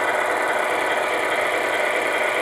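Vibration engine motor inside a Tamiya RC Freightliner Cascadia model truck runs steadily, a continuous buzzing hum with no breaks and no voices over it.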